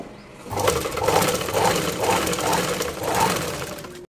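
A sewing machine stitches lace trim onto a plain saree to make a party-wear design. It runs loudly and close in one continuous burst with a steady pulsing whir and stops abruptly at the end.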